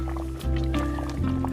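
Cocoyam soup with added vegetables simmers in a pot over medium-low heat, giving soft liquid bubbling and dripping sounds under a low steady hum.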